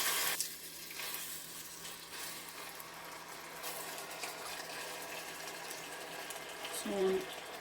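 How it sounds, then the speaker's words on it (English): A fish fillet fries in coconut oil in a pot with a steady, faint sizzle that holds throughout, close by and even, with no voices. "So you leave it for it to fry nicely."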